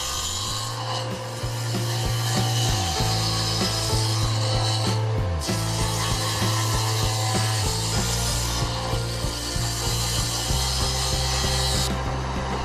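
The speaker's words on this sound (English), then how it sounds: "I set the dado stack to 3/8 of an inch, half the width of the dowel." A table saw fitted with a dado stack set to 3/8 inch cuts into a wooden board, its steady motor whine running throughout with the pitch dropping and shifting each time the blade bites and clears the wood.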